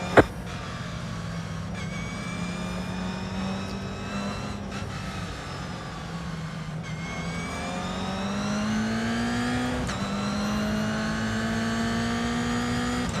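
A Toyota GR86 race car accelerates hard through the gears at a race start at Oulton Park, the in-car engine note climbing in repeated rising sweeps broken by quick upshifts, with other cars droning nearby.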